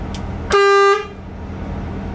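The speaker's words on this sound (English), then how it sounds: "Air horn." Air horn on a Temsa TS45 coach, one bright, tonal blast lasting about half a second, loud and close over a low idling hum.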